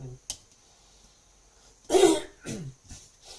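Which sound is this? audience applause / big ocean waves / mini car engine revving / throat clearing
throat clearing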